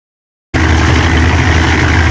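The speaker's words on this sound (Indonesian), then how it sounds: "ini ada mesin giling, lagi pada giling semen ya guys" A cement mixer grinding cement at a construction site starts abruptly and keeps up a loud, steady mechanical churn with a low engine hum, close by and with no talking.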